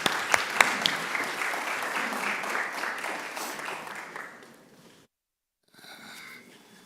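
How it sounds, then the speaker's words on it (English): Warm audience applause welcoming a speaker at a community summit, loud dense clapping with a few sharp claps that tapers off after about five seconds, then a brief pause and low room sound. "please give him a round of applause"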